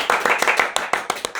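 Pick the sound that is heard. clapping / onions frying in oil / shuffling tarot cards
clapping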